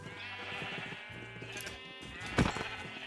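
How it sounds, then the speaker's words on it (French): Several Minecraft sheep bleat against a busy backdrop of in-game sounds and music, with repeated bleats scattered through and a louder burst near the end. "Il y a juste quelques centaines de moutons là qui commencent à se propager partout"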